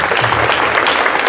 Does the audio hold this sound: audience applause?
yes